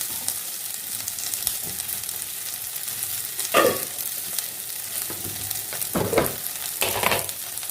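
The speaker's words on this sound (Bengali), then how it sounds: "রসুনের মধ্যে এগুলো দিয়ে দেবো একবারে এবার একটু নেড়ে চেড়ে নেব" A spatula stirs salt and turmeric into pointed gourd mash frying with garlic in a pan, a soft steady sizzle broken by a few louder scraping strokes, with no talking.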